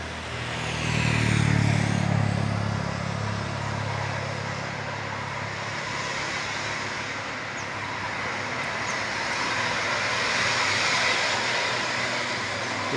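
Buses labour up the steep Tebing Breksi incline, a broad roaring engine drone that swells early, then holds steady and rises again, with no talking.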